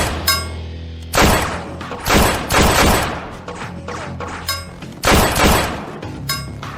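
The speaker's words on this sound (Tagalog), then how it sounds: "Isang putok, hindi sapat. Isa pang putok." Loud gunfire in a dramatized scene, several sharp broadband blasts at irregular intervals, each followed by a short decaying tail, with quieter rumbling between them.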